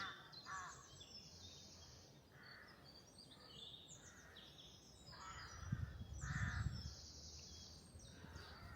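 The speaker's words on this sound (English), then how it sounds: "Carrion crows and wood pigeons along the track." Carrion crows caw along a wooded track on the Isle of Wight, a series of hoarse calls repeated at a steady pace, fairly distant and soft over outdoor background noise with a low rumble midway.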